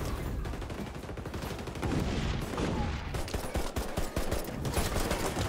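Dense, rapid gunfire in the game XDefiant crackles continuously, a chaotic mix of automatic bursts and individual shots, loud and close.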